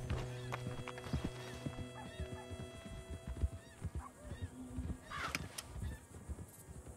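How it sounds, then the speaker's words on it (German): Horses riding past in Red Dead Redemption 2: hooves clopping irregularly with snorts and whinnies, over ambient game sounds and a faint tonal background. "Da reiten sie, die Jungs."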